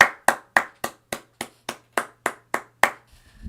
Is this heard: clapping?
yes